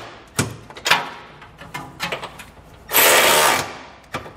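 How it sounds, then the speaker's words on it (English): Metal clatter and ratcheting from a socket wrench working on large flange nuts while mounting a Curt trailer hitch receiver on a 2020 Mitsubishi: scattered close clicks and knocks, then a loud, sustained burst of ratcheting before a final clunk. "for our large flange nuts, we're going to use a 3/4 inch socket."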